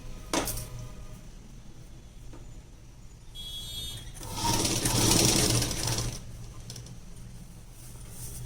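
Sewing machine stitching a long gown from an old saree, running steadily with a continuous mechanical whir that swells louder in the middle, close and alone with no talk.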